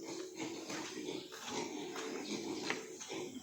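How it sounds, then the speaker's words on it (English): A pig grunts in its pen on a farm, with low repeated grunts heard over steady background noise and some indistinct voices. "So the little pig's in there."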